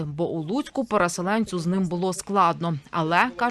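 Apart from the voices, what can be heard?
No everyday noises stand out.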